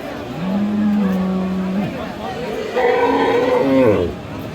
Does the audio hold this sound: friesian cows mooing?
yes